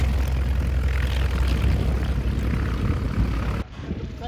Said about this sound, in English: Our aircraft today pulls in from its last tour of above the airfield, and we get a beautiful view as it taxis over the apron